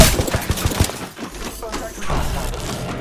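Gunfire in the video game Apex Legends, a quick rattling volley of shots up front giving way to muffled thuds and continued firing, loud and close with voices speaking over the action.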